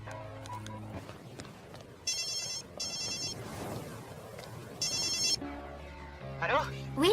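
A telephone rings in short repeated electronic bursts while a call is being placed, with music and other sounds underneath and a rising tone near the end.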